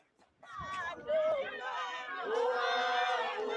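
A small, intimidating mob in a South African street surges closer, many voices shouting and chanting together in a rising roar that grows louder and nearer.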